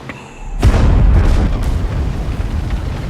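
A heavy boom from an explosion in the film The Batman erupts sharply and loud, followed by a long rumbling, crackling tail of debris that slowly fades.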